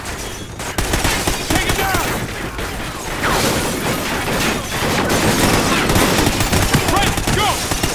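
Sustained automatic gunfire and scattered shots in a Call of Duty Ghosts firefight, dense and loud throughout, with soldiers shouting orders over the shooting.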